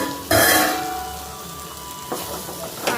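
Chili powder fries in a pan as it is stirred, a sharp burst of sizzle and scraping up close that fades, then brief stirring scrapes.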